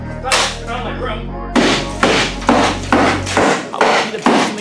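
A hammer bangs on the inside of a Subaru Outback's body panels, giving about seven sharp, loud metallic strikes in an uneven rhythm, each ringing out briefly after the opening one.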